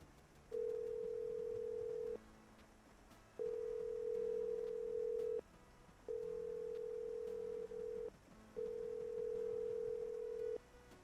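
A telephone dial tone rings out in the Roblox video game, four long steady tones with short gaps between them, clear and fairly quiet with no talk over them.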